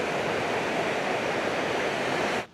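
Steady broadband rush of a waterfall and flowing water amid greenery at a Valparai tourist spot, continuous and fairly loud with no talk, cutting off abruptly at the end.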